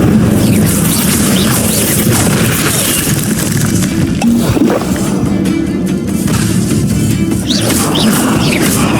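Spell blasts and impacts in the video game Hogwarts Legacy, a continuous barrage of explosive booms, crashes and whooshing hits layered over one another, loud and dense throughout.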